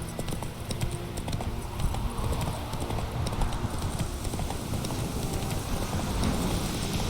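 In The Witcher 3 video game, the horse Roach trots with a steady, rapid clip-clop of hooves over ground, accompanied by a constant rushing background of wind and movement noise.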